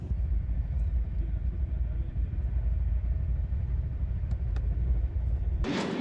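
Inside the Dibrugarh–New Delhi Rajdhani Express, a constant deep rumble of the running train rolls on steadily, ending in a short burst of brighter noise.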